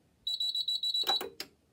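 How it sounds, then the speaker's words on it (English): An electronic fire alarm panel buzzer on a Menvier MF400 sounds in a rapid series of short, shrill pulses, then breaks into a few harsher, irregular bursts before stopping. "The buzzer sounds a bit funny"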